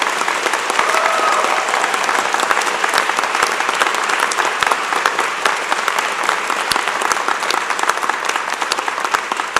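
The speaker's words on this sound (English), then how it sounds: "Graduates, a round of applause." A large audience at a spring university convocation applauds graduates, with loud, continuous crowd clapping sustained evenly throughout.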